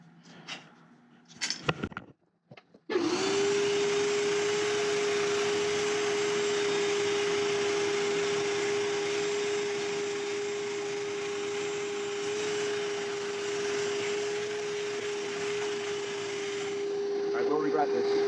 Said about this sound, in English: Now I'm going to hit this with a vacuum.